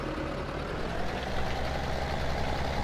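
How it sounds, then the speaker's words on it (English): Tractor engine in Farming Simulator 17, running as a steady, loud, low rumbling idle throughout, with no voices. "we can go ahead and start this tractor up, drive it ahead"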